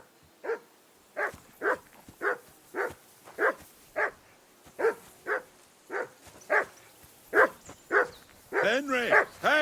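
A dog in the Kingdom Come Deliverance 2 video game barks about a dozen times in a steady rhythm, loud and close, before a voice breaks in at the end.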